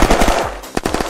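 Automatic machine gun fire in the video game Unturned, several rapid bursts of loud, close shots with brief gaps between them and no talk over it.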